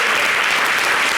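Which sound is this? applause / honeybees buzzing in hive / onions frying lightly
applause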